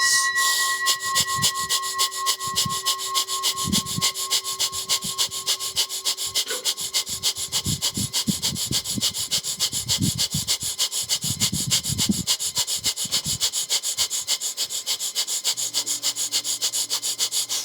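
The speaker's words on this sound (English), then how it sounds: "We're going to be practicing the breath of fire. Rapid inhale and exhale through the nose." Rapid, rhythmic breath of fire during a Kundalini kriya, quick sharp sniffs in and out through the nose repeated steadily and close, with faint tones underneath.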